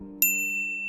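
A single bright notification bell ding strikes and rings on with a sustained metallic tone over a low musical bed.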